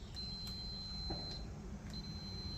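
A Fluke multimeter emits thin, high continuity beeps while probing a jet ski start-stop switch, two longer tones plus short blips, faint over a steady room hiss.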